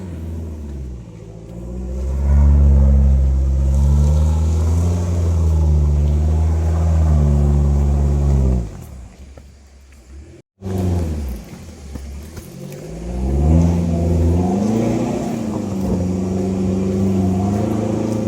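Car engine revving hard through a gear change on a rough mountain track between Omkoi and Doi Pepper, a loud sustained drone that rises and falls, drops off briefly, then climbs again as a higher gear takes over.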